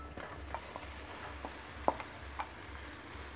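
Potatoes stirred into hot spiced oil in a pan give a soft, low sizzle with a few scattered scrapes and taps of a spoon, close by but fairly quiet.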